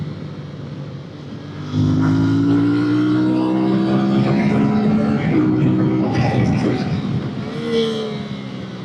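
Moto Morini motorcycle engine pulling smoothly under steady acceleration, a rising engine note that grows louder after a quieter opening and holds near and strong throughout.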